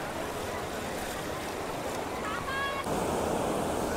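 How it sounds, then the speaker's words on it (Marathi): A small wooden boat rides on the sea off a Konkan beach at Diveagar, with a steady wash of waves and wind noise throughout and a brief tonal squeal near the end. "आपण बसलोय होडीत आणि आता आपण चाललोय बोट राईड करायला"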